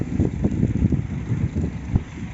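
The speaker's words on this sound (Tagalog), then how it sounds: "Medyo mahangin, hindi ka ganong mainitan." Steady wind buffeting the microphone at Pasir Ris Park, low rumbling gusts that rise and fall continuously with no voices.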